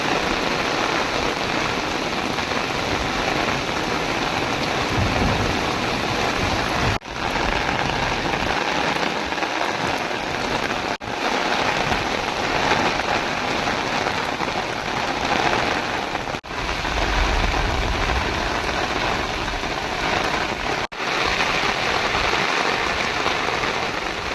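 Heavy, steady monsoon rain pouring down and drumming on surfaces in Palitana, Gujarat, a dense continuous roar with no voices.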